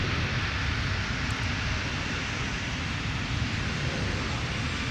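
Boeing 757-300 arriving from Orlando on its landing roll at Minneapolis–Saint Paul airport, a steady, loud broadband roar of jet engines and rushing air that holds evenly for several seconds with no speech.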